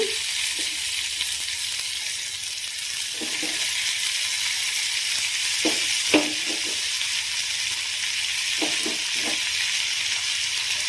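Ridge gourd frying in a pan with soaked moong dal about to go in, a steady close sizzle throughout broken by a few soft stirring clicks and scrapes, with no talk.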